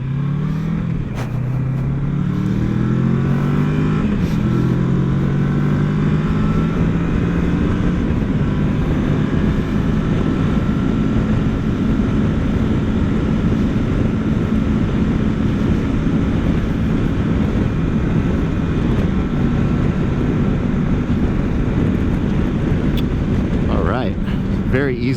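A 2020 Kawasaki Versys 650 adventure motorcycle accelerates on a highway, its engine note climbing through gears and then holding a steady drone under heavy wind rush, loud and close throughout.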